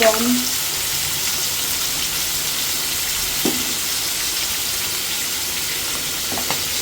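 Fish pieces frying in hot oil in a home kitchen, a steady broad sizzle, loud and constant, with a couple of faint utensil taps.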